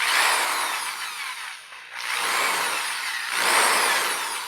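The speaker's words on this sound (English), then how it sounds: "very carefully just put my drill in here" A power drill whirs in two bursts with a short pause between, its high whine grinding close by as it clears old cane from the seat holes of an antique Thonet chair.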